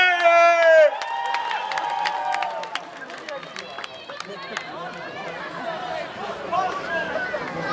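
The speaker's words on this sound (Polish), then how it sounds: "brawa dla blondyny!" An audience applauds and cheers for a singer at an outdoor radio singing event in Karpacz, with crowd noise and scattered claps following the final sung note, and voices mixed in.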